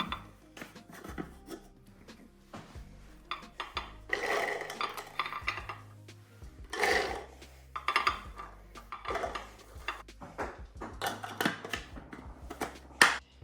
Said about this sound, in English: I have a mixing bowl here to put the cranberries in.